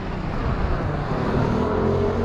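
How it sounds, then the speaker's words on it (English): Several buses rumble past on a busy London street, a steady loud low-pitched engine drone and road roar filling the whole stretch without pause, no voices. "A few buses going by."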